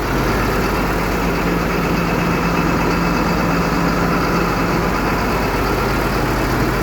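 A bus engine idles at raised revs after a cold start, a steady, continuous mechanical drone with a low rumble holding even from start to finish with no voices over it.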